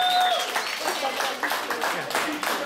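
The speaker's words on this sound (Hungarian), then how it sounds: "Szép, tapsoljuk meg." Guests at a Hungarian wedding reception applaud together after the wedding cake is served, a dense, lively clapping that continues steadily with voices mixed in underneath.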